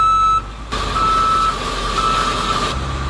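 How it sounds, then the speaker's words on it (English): An emergency response truck backs up with a steady, loud electronic reversing beep over its idling engine. A brief mechanical rumble marks the start of the move, and no voices are heard. "Whenever you back up, your partner should get out and spot you."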